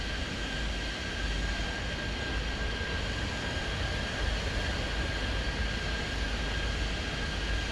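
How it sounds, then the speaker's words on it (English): Simulated Airbus 320 airliner landing on a runway in the Airport Madness 3D airport game, a steady broad jet-engine roar with a constant high whine running unbroken throughout, fairly loud and with no talk over it. "Airbus 320 on the horizon arrives on runway"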